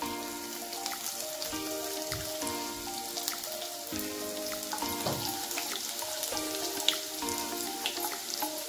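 A steady, dense sizzle of garlic frying in hot oil with cumin, with crackling pops, close and continuous throughout.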